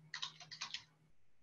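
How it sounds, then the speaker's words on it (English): A rapid burst of computer keyboard typing, a dozen or so crisp clicks in quick succession, close and quiet, then stopping. "let me type in here"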